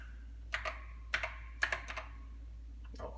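Keys clack on an Apple II keyboard as a short command is typed, a quick burst of distinct close taps in small clusters, then a final keystroke after a brief pause, in a quiet room.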